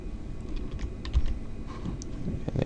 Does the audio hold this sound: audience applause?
no